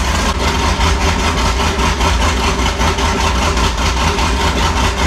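A modified car engine idles loudly and close by with a rough, lumpy chop, pulsing in a steady rhythm throughout.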